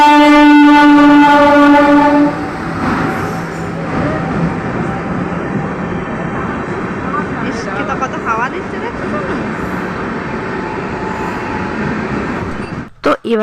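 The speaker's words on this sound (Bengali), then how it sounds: "তারপর ট্রেন আসলো ট্রেনে চেপে আমরা রওনা দিলাম পুরুলিয়ার দিকে" A passenger train in India heading toward Purulia sounds a long horn at the start, then a steady rumbling roll continues while people talk over it.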